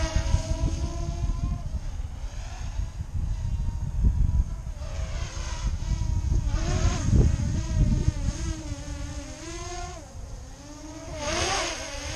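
A DJI Mavic Air drone fitted with Master Airscrew stealth propellers flies nearby, a continuous buzzing whine whose pitch rises and falls as it manoeuvres, steady and prominent with a brief lull near the end.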